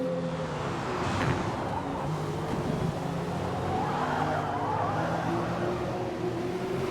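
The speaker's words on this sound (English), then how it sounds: "Boy, that BMW is sliding those rear tires audibly. You can hear it." A BMW race car in a racing video game slides its rear tires around Daytona, a steady engine drone with a faint scrubbing squeal layered over it, continuous and fairly close throughout.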